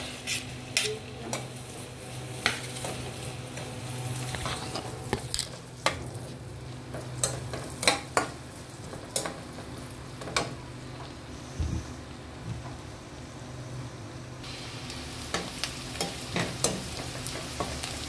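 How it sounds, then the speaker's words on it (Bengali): Onion and green chilies fry at medium heat in a pan under a steady soft sizzle. A spatula stirs repeatedly, making frequent sharp clinks and scrapes against the metal, close by and with no one speaking. "আমার পেঁয়াজটা ভাজা হয়ে গিয়েছে"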